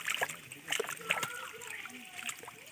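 Freshly caught pond fish splash and thrash about in shallow water, with repeated wet slaps and sloshing close by, while people talk over the commotion.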